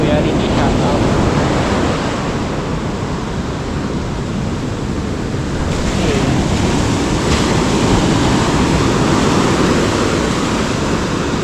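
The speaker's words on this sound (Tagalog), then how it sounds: "Kaya po kasi ang lakas ng hangin." Strong wind roars by the sea after heavy rain, a steady, loud broadband rush mixed with surf that continues unbroken with no voices.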